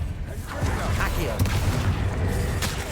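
Explosive combat spells and booms from a Hogwarts Legacy fight, with dense, loud blasts and crackling impacts running continuously under a voice calling out spell names.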